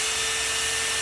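A drill whines at a steady high pitch throughout, close and continuous, while work is done on a BMW E38.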